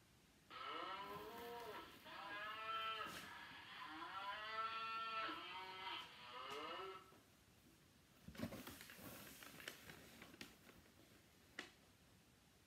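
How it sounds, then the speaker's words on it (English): A cow moos in a long, drawn-out call lasting several seconds, followed by quieter clicks and soft rustling noises. "A cow? You're right. Moo."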